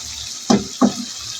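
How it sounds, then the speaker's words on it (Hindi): Water from a bowl splashes into a pot of potato and pea curry in two short, close pours, with quiet kitchen background around them and no talking. "अब इसमें हम पानी शामिल करेंगे"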